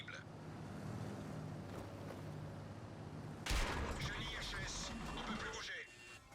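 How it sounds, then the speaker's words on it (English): Tank tracks clanking in World of Tanks, a steady rumbling grind heard from inside the tank, with a louder burst of mechanical noise midway and continuous engine drone throughout. "listen to this tracking sound effect coming up in a second"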